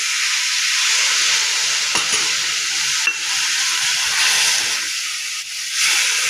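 Milk poured into a pan of beetroot halwa sets off a loud, steady sizzle and hiss with stirring scrapes, continuous and close, with a couple of brief clinks.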